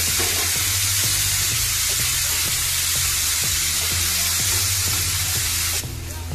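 Small green bananas and chilies frying together in hot oil in a home kitchen pan, a loud steady sizzle with faint rhythmic stirring taps running throughout, easing slightly near the end.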